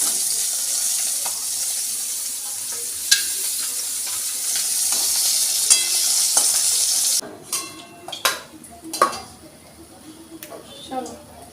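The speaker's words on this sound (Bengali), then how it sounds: "মাছ ভাজাটা হলো" Fish fries in a pan with a loud, dense sizzle for several seconds, then it drops and gives way to scattered clinks and scraping of utensils.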